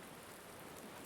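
Steady rain falls in Farming Simulator 19, a dense even hiss of drops on surfaces, soft and continuous with no other sounds.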